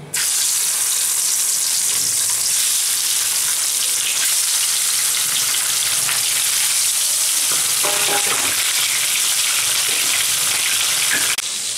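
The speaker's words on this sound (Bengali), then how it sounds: "এবার আমি মাছটাতে কড়াইতে ভাজবো" A bhagon fish rubbed with salt and turmeric fries in hot oil in a kadai, making a loud, steady sizzle and spatter with occasional brief crackling bursts.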